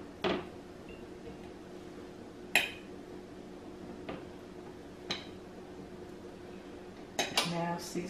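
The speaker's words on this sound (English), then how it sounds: "Let me grab a fork." Metal cutlery clinks as a fork is picked out in a home kitchen, a few separate sharp clatters spaced across a quiet room, ending in a brief jangle of silverware.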